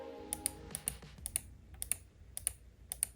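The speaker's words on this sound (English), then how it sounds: "Here's the left click" Crisp, quiet left-button clicks on a Logitech MX Master 3 mouse, about seven of them spaced roughly half a second apart, close up over a faint background hum.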